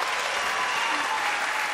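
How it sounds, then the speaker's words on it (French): Audience applause on a French television variety show, a steady dense wash of clapping heard alone and fairly distant, lasting a short moment. "applaudissements pour les plus jeunes"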